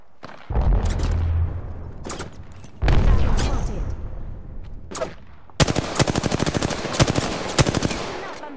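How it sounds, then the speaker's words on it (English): Automatic gunfire in a video game, with loud close bursts and long rattling volleys broken by short gaps, and a final rapid sustained stream of shots. "Enough, I'm getting shot at."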